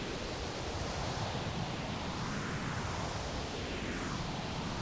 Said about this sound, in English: You can hear that's the sweep oscillator. And so this is the fully wet signal right now.